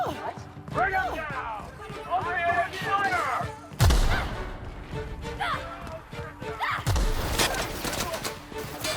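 Gunfire in The Outer Worlds video game: a few sharp booming shots with low tails, heard between shouting characters and busy combat noise.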